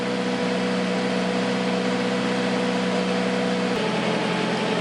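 A car engine idling with a steady mid-low hum and a slight shift in tone partway through, a constant drone heard close with no talk.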